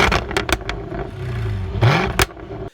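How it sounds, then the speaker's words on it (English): A Jaguar F-Type R's engine idles and then gives a quick, sharp rev with a rising growl, set among a few clattering knocks, close by and fairly loud. "you won't find one that sounds as good as the F-Type R."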